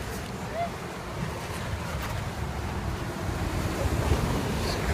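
Big ocean waves surging onto a green sand beach, a steady broad roar of surf mixed with strong wind buffeting the microphone, with no clear separate crashes.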